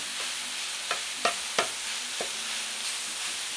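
Meat for Mexican street tacos frying in a pan: a steady bright sizzle fills the scene, broken by several sharp scraping stirs and knocks of the utensil against the pan, with no talking.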